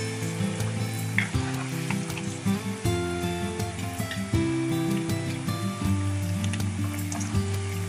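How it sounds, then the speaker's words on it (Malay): Chopped vegetables fry in hot oil for upside-down rice, a steady loud sizzle with clinks and stirring throughout, no voices. "Sayur yang telah kita potong tadi kita goreng dalam minyak sehingga garing."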